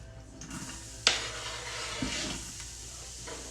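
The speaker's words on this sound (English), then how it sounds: "It's going to sizzle." Chopped onions hitting a preheated pan in a home kitchen, a sharp clatter followed by a quiet, steady sizzle with a second stir-like knock, close and fairly soft with no talk over it.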